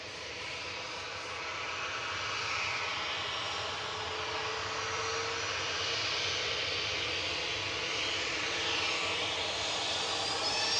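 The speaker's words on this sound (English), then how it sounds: "Dreamline departure coming up." Distant, rising jet roar from a Boeing 787 Dreamliner departing Manchester Airport, building gradually and holding steady with no talk over it.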